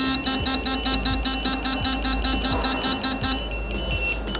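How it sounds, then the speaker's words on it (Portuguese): An electronic torque tool beeps steadily and quickly for several seconds as it nears torque, then stops; a low hum runs underneath with faint clicks. "Quando eu estou chegando no torque, ele somente faz o sistema do bip."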